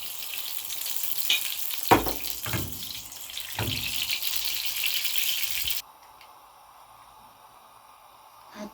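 Oil and ghee heating in a hot pan for frying chicken give a steady, close sizzling hiss, broken by a few clattering knocks and scrapes, before the sizzle cuts out and leaves only faint background.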